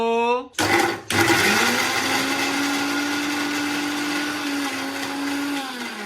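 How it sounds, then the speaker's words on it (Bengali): A blender grinds ginger and garlic into paste; after a brief stuttering start, the motor settles into a loud, steady, whining drone that runs to the end. "আদা রসুনটা পেস্ট করে নিলাম"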